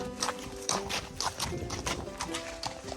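Hooves of a Fjord horse stallion being ridden outdoors, a quick series of distinct clip-clop strikes in an uneven trotting rhythm, close and clear against light background noise.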